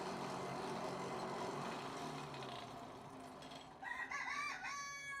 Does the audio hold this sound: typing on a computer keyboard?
no